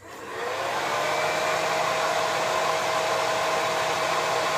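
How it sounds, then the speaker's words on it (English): A blow dryer on a low setting with medium heat runs as a steady, close, continuous airy whoosh that rises in its first half second and then holds evenly. "so I'm using the blow dryer to curl my lashes up. It's a low setting, medium heat"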